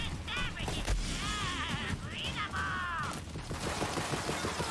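Gunfire in the video game Borderlands 3, a dense run of loud, overlapping shots mixed with whooshing, warbling weapon effects, continuous through the whole stretch.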